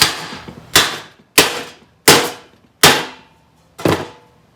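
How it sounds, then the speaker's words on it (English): A stuck bolt in a welded car floor pan is knocked out with five sharp, close hammer taps, each a crisp metallic crack with short ringing decay, spaced about a second apart. "We'll do the right thing and just gently give it a tap."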